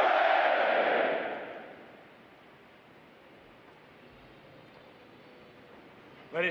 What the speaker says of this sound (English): It is appropriate to recognize such outstanding individual accomplishments by these sailors with a round of three cheers.